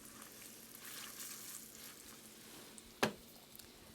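A thick pork chop frying in a hot pan gives a steady, fairly quiet sizzle, with one sharp louder crackle or spatter about three seconds in.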